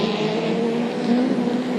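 Race cars at Maryborough Speedway in a National 4s title final roar through turns one and two, a loud, sustained engine drone from several cars at mid distance.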